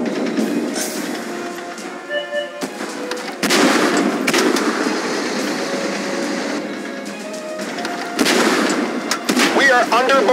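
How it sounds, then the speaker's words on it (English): Artillery bombardment in the Tank Force tank video game: heavy booming blasts and rumbling impacts with dense crackling, several loud bursts over steady battle noise. "We are under bombardment!"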